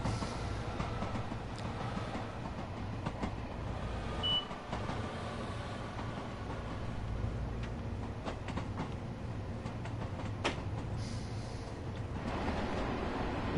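Train wheels clatter over track joins in the Train Sim World video game, a low steady rumble with faint repeated clicks passing along the train at a quiet distance.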